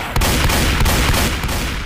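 A shotgun loaded with explosive ammo fires in Left 4 Dead 2: about five loud, booming blasts in a fairly even rhythm, each with a sharp crack, and no speech over them.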